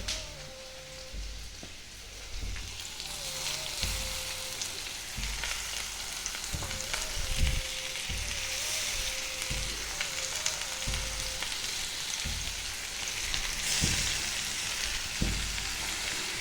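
Onions and tomatoes sauté in a pan for tomato chutney, giving a steady, close sizzle with occasional stirring scrapes and clinks and a faint tonal hum beneath.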